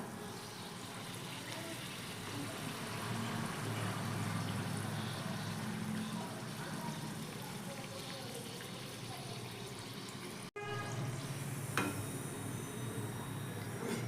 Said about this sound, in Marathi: हे पहा अशी तळून घ्यायची छान फुगतात